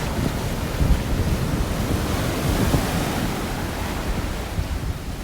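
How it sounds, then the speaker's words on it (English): Steady roar of ocean surf with crashing waves and wind buffeting the microphone at Playa Morón, Samaná, Dominican Republic, continuous and fairly loud, no voices. "Some nice waves."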